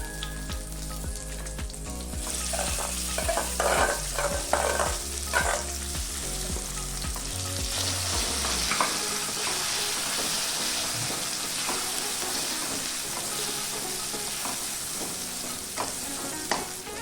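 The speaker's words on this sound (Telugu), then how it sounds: "ఇప్పుడు స్టవ్ ఆఫ్ చేసేసి ఈ పచ్చడి దీంట్లో వేసుకొని కలుపుకోవాలి." Tamarind-leaf and tomato chutney being stirred into a pan just off the stove, with a steady scraping and mixing sound and a faint sizzle throughout, alone with no talk.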